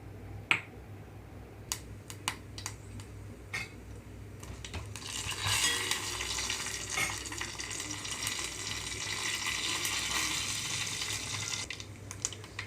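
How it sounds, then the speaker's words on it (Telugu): Tempering seeds and dried red chillies drop into hot oil with a few sharp pops and crackles, then a steady close sizzle builds and continues, with occasional spatters and utensil clicks. "ఆయిల్ ముందుగా వేడైన తర్వాత తాలింపు గింజలు అలాగే ఎండుమిరపకాయలు వేసేసుకుంటున్నాను"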